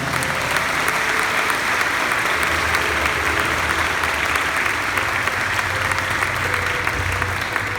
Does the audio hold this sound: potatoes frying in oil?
no